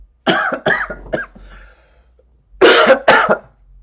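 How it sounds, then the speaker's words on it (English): A run of harsh coughs, up close and loud: three quick ones, a pause, then two more. "I'm coughing a bunch."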